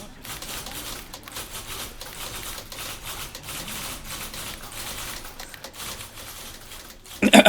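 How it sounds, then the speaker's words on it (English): Many typewriters clatter together in the video game The Beginner's Guide, a dense, steady patter of keystrokes ending in a sudden louder burst. "That's a lot of typewriters."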